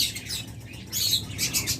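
Lovebirds kept in breeding pairs in cages chirp in quick bright tweets that come in short bursts and cluster near the end, close and fairly loud, with no talking.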